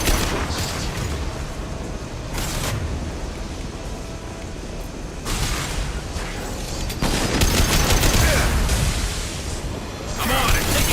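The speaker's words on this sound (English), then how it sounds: "I'm on it. Taking heavy fire." Heavy gunfire and explosive booms from a Mass Effect 2 firefight, loud and continuous across the clip, with bursts of shots and impacts layered over game noise and occasional voices.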